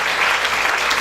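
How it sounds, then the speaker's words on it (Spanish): A church congregation at a Pentecost service applauds, a loud, full wash of many hands clapping steadily with no voices over it. "¿No le da un aplauso al Padre, al Hijo y al Espíritu Santo?"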